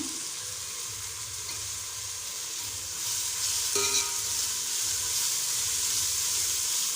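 Green chillies sauté in a pan of cooking rice-and-dal masala, a steady close sizzle with a brief clatter of stirring partway through, no voices.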